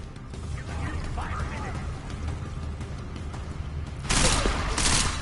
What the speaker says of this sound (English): Man, they're actually shooting pretty good